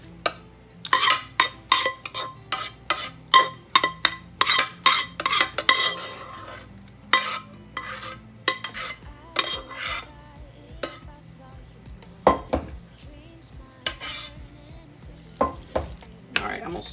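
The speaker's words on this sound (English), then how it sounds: "I'm going to stir this up just a little bit. Make sure it's good and combined." Casserole ingredients stirred in a pan, a quick rhythmic run of spoon scrapes and clinks against the pan with a soft sizzle beneath, the strokes slowing into a few scattered knocks near the end.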